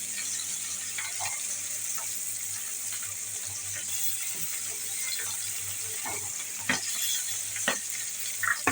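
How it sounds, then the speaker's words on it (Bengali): Tengra fish sizzle steadily in hot oil in a home kitchen, a dense crackle broken by a few sharper pops and clicks, with a faint running-water hiss behind it and no voices. "তেল গরম হয়ে গেছে। এখন আমি মাছগুলিকে দিয়ে দেবো।"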